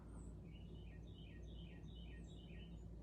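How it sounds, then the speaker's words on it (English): A Carolina Wren sings a series of quick, repeated bright phrases, faint and somewhat distant over a steady low background hum. "I think it's a Carolina Wren, but I'm not really sure."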